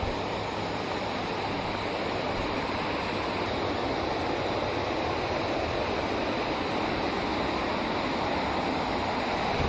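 Water pours steadily over a dam on a polluted river, a dense, constant rushing roar heard up close with no pauses and no voices.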